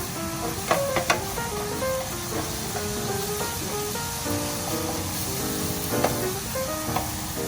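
Garlic and onion frying in a pan, a continuous loud sizzle with occasional clinks of a utensil stirring against the pan, close and alone.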